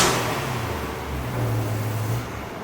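A modified car exhaust on an engine with new wheels and exhaust, revving in a steady low drone that swells louder midway then eases off, close and loud with no talk.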